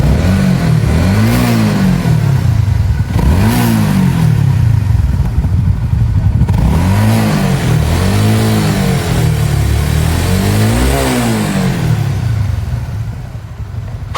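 A Honda CB150 motorcycle engine revs repeatedly at close range, several rising and falling throttle blips over a steady rough idle with some mechanical clatter. The bike has a severe vibration problem.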